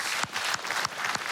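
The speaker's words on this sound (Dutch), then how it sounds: "Ja, applaus." Audience applause at a closing local election debate in the Netherlands, heard as a short burst of clapping of moderate loudness with a few distinct louder claps standing out.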